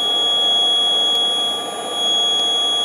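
A household appliance emits a steady high electronic beep tone, sustained and fairly loud, dipping briefly before resuming, with no talk over it.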